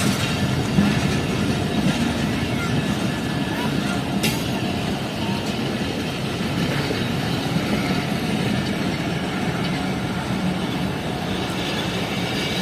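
The Fareed Express passenger train runs on a branch line in Pakistan, a continuous loud rumble of wheels on rails with rhythmic clatter and a brief squeal, heard steadily throughout.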